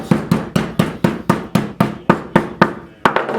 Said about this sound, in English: take your hammer and just take the staples.